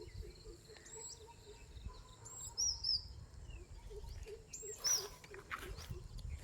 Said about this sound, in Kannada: ಪಕ್ಷಿ ಸೌಂಡು